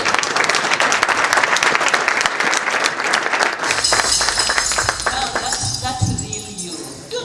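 Audience applause at the RVTTI technology and innovation conference: dense, sustained clapping from a large crowd that stays loud throughout, then thins and fades slightly toward the end.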